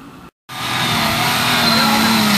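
A Mazda off-roader climbing a hill at an ORV park, engine revving hard in a sustained loud drone after a momentary cut, strong and close with no talking.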